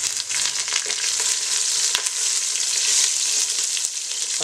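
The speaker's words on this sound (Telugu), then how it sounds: "ఇప్పుడు ఈ ఆనియన్స్ ఇవన్నీ వేగాయి కాబట్టి మనం ఇందులో పచ్చిమిర్చి వేసుకుంటాం." Green chillies and onions fry in hot oil for a biryani base, giving a loud, steady sizzle with occasional stirring scrapes and no voices.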